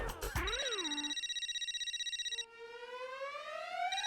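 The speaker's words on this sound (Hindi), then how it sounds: "देखो, मेरी बीवी का फोन आ रहा है" A mobile phone rings as a wife calls, a synthetic tone sweeping and warbling, then pausing briefly before a rising electronic melody repeats, fairly quiet and clean with no talk.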